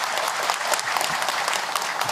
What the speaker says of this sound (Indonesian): Tepuk tangan untuk beliau yang bertanya.